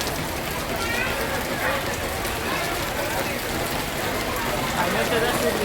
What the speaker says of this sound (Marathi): बघा भरपूर पाऊस पडतो